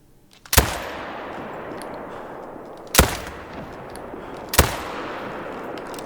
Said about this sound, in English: Want to take a shot from far range with the new gun. This is the Hansen 30-06.